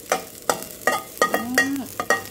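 Garlic fries in oil for a Thai stir-fried pork with snow peas, with rhythmic scraping strikes of a spatula against the pan over a soft background sizzle, about eight close stirs.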